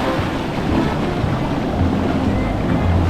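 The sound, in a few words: strong ocean waves on Mexican beach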